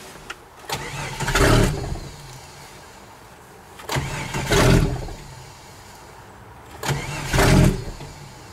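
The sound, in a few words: MS660 saw engine starting, muffler off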